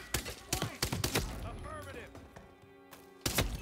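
Gunfire in the Hitman 3 video game, a quick burst of several sharp cracks followed by another shot near the end, mixed with a voice talking.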